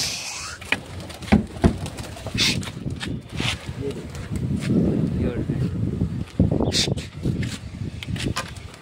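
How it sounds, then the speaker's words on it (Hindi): Gusty outdoor wind buffets the microphone as a low, uneven rumble on a rooftop where pigeons are flown, with rain-like weather coming in; it lasts throughout, with faint voices and a few sharp knocks. "थोड़ी थोड़ी हवा भी चल रही है इधर से"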